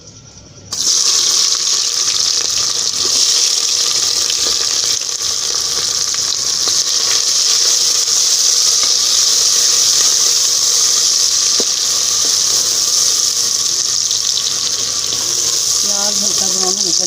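Onions frying in hot oil in a karahi, a loud, steady sizzle that hisses continuously from start to finish without pause.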